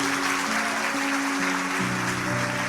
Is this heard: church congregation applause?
yes